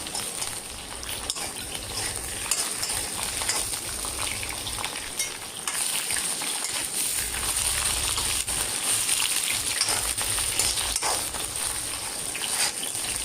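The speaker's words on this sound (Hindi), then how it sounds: "यहीं पर मैं मोरिंगा को भी फ्राई कर लूँगी" Moringa drumsticks frying in a pan for a moringa, potato and eggplant curry, giving a steady, dense sizzle that runs unbroken throughout with faint stirring noises.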